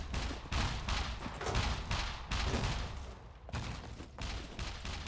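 Rapid bursts of gunfire crack through a SCUM match, repeated volleys in close succession with short gaps, loud and dense like a firefight aimed at the player.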